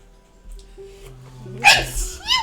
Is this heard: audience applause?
no